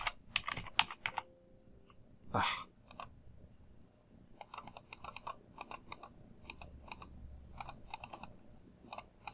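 Typing on a computer keyboard during CAD modeling work: bursts of quick, close key clicks in short irregular clusters, preceded by a few louder handling knocks and a short exclamation.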